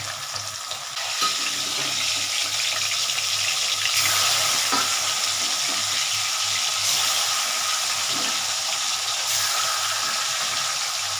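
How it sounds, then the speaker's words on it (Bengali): Hilsa fish pieces fry lightly in a pan, giving a steady, close bubbling sizzle that runs unbroken with no talking. "এইভাবে মাছগুলো হালকা আমি ভাজতে থাকি"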